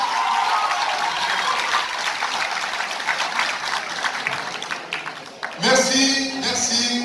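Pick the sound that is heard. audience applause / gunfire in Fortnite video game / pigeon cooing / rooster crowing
audience applause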